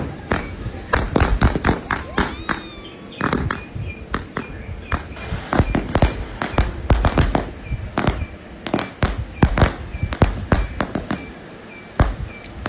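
Diwali firecrackers burst over and over in a crowded residential chawl, dozens of sharp loud bangs in quick irregular bursts, some close and some farther off, with voices of people in the background.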